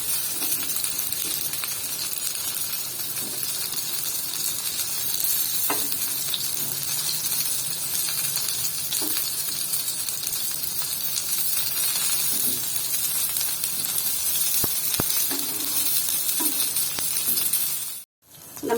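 Brinjal slices fry in a pan with a constant bright hiss of oil, close and even, with scattered soft taps and stirs and a sudden cut-off near the end.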